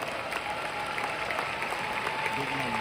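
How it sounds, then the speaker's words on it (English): Audience applause at a Riway International company gathering, a steady wash of clapping from a crowd holding at an even level throughout, with some voices mixed in. "Can we give our Vietnamese brothers a round of applause today?"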